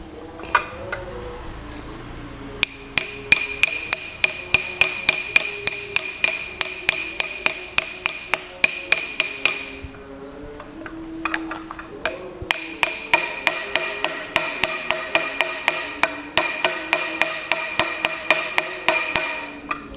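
A steering part is hammered into place on a motorcycle during a steering stem bearing replacement, with an old bearing laid over it as a guard. Rapid, sharp metallic strikes ring out close and loud in two long bursts separated by a brief pause.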